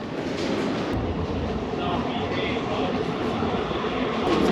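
Steady, fairly loud rumble of a San Francisco subway train running through a tunnel, a continuous roar with a faint higher whine partway through.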